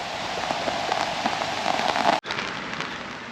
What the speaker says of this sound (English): the rain is moving faster than me